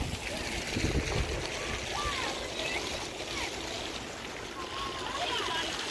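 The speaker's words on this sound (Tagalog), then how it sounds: "oh, fountain." An outdoor water fountain splashes and trickles in a steady, continuous wash, heard from nearby in the late afternoon with a person talking over it.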